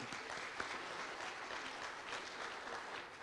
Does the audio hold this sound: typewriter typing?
no